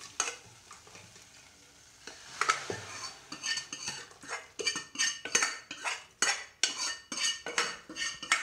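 Hot tempering goes into a pot of sambar in a home kitchen, bringing a brief sizzle and then a run of rhythmic scraping and clinking as a metal spoon stirs against the pot, with no speech.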